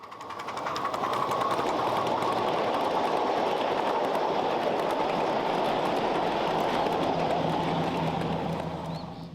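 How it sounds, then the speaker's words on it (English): A live steam model locomotive charges past on a club railroad, producing a loud, continuous rushing chuff and rumble with rapid rhythmic clatter, sustained and close for the whole stretch. "as John Lucas Savage's CNO 475 charges by Brad Peterson's P&W locomotive."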